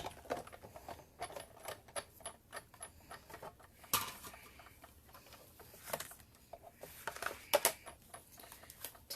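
An embossing folder and cutting plate pass through a die-cutting machine for a Christmas card, producing faint irregular clicks, ticks and ratcheting cranks at close range.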